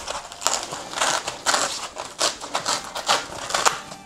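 Foam being peeled and torn out of the pick-apart insert of a Makita Makpac toolbox makes close, repeated crackling rips in irregular bursts.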